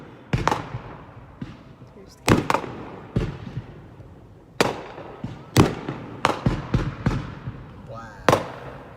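New Year's Eve fireworks in St. Albans, Vermont, heard from inside a vehicle through an open sunroof: a string of sharp, loud bangs and pops at irregular intervals, some in quick pairs, with voices talking between them.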